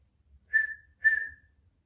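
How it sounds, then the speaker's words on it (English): Two short, clear whistled exhales during a no-equipment Pilates breathing exercise, each a steady tone about half a second long, close and isolated against silence. "you don't have to whistle when you do it."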